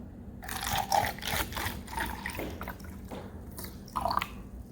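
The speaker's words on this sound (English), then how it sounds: "we're going to pour just enough vinegar to completely cover the egg" Vinegar poured over an egg in a container, a soft liquid trickle and splashing with small drips, fairly quiet and close, alone without talk.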